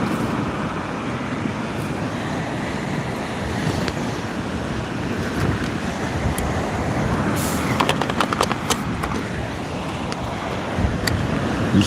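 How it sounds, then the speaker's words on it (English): Breezy morning wind by the sea at a fishing bivvy, a loud continuous rushing roar with buffeting gusts against the microphone and faint surf underneath. "It's still quite a breezy morning."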